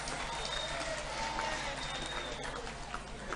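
Applause from an audience at a Women's Day celebration led by President Ramaphosa, a steady, dense wash of clapping and crowd noise filling the whole stretch, with voices faintly mixed in.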